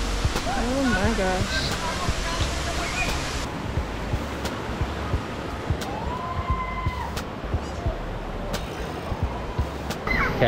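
Cambugahay Falls in the Philippines pours in a steady, loud rush of water that fills the whole scene, with faint voices and scattered background sounds mixed under the constant roar.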